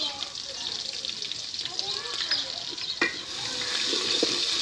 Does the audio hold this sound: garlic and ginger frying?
yes